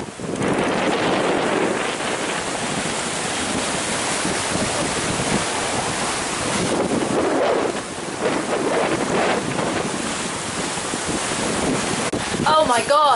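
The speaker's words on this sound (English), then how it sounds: "I can see mass winds coming from this squall behind me in a minute." Strong squall winds buffet a sailboat in the Caribbean, a loud, steady roar of wind rushing over the microphone with surging water beneath, continuous and close throughout.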